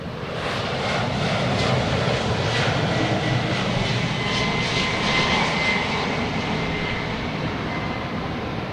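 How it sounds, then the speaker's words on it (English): An American Airlines Airbus A319 jet lines up at Boston Logan Airport, and its engines give a loud, continuous roar with a broad rushing hiss that holds steady and close for the whole stretch, with no talking over it. "Now we got American A319. That's lining up too."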